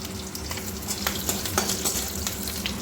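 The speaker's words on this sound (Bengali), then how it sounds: "আর দিয়ে দেবো একটু গোটা জিরে ফোড়নে" Whole cumin seeds and green chili sizzle steadily in hot oil for a Bengali lau soyabean dish, a close, continuous crackling fry with quick popping spits.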